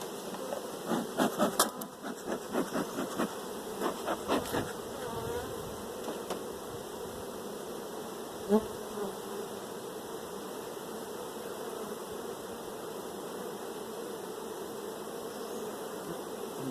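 A bee buzzes persistently around someone outdoors on a summer day, louder pulsing passes in the first few seconds, then a steadier hum with occasional swells continuing throughout.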